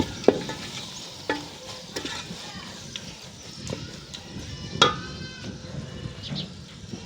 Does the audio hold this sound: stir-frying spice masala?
yes